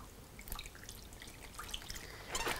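Washing-up liquid stirred into a bowl of water, giving faint watery drips, splashes and sloshing, quiet and close, with a slightly louder swirl at the end.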